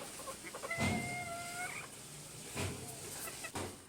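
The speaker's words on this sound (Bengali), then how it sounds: "এই জন্য আর কি ডাকাডাকি শুরু করে দিয়েছে। এই যে মোরগটা আর মুরগি" Chickens call near a home, with a rooster and two or three hens giving a few short clucks and a drawn-out cry, fairly faint and a little distant, with no talk.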